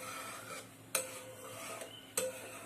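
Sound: stirring and scraping thickening milk in a pan for mango barfi

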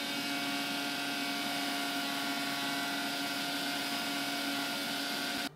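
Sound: blender blending apple and honey milkshake

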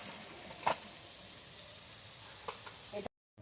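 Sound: frying moringa leaf pakoras in oil

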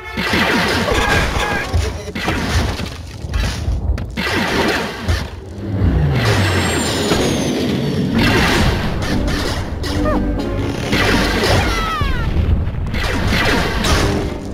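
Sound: explosion in video game Angry Birds Star Wars 2

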